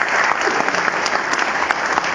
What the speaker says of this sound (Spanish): le damos un fuerte aplauso